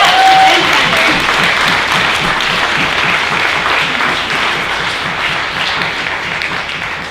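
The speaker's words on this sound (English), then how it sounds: "Yeah, round of applause. Land defenders." Sustained applause from an audience at a panel and film screening, cheering land defenders: dense, steady clapping throughout that eases slightly toward the end, with faint voices mixed in.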